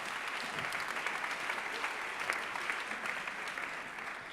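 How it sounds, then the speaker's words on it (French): Audience at a real estate awards ceremony applauding, a steady, moderately loud patter of many hands that carries evenly throughout without voices over it. "On les applaudit très fort tous les 5."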